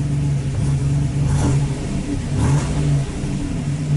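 The freshly rebuilt engine of a 1986 Buick Grand National idles close and loud with a steady hum, broken by a couple of short throttle blips partway through.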